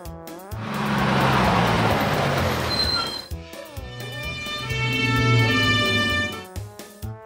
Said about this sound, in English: Airport bus.